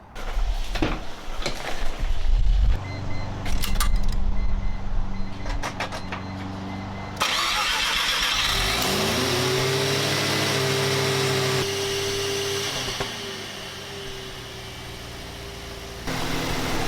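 A 1993 Mazda RX-7 rotary engine cranks and fires after a new radiator install, settling into a steady idle with a rising tone as it catches, preceded by clicks and handling noises, with no talking.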